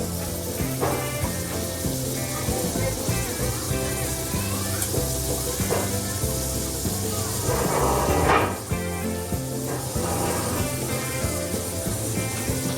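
Green peas hitting hot spice masala in a pan for Punjabi aloo matar sabzi, a loud continuous sizzle with clatters of stirring and a brief hiss surge midway.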